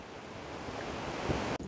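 Sea waves surge and break at Munambam Beach in Kerala in rainy weather, a continuous broadband wash of surf and wind that stays steady throughout, then cuts out briefly just before the end.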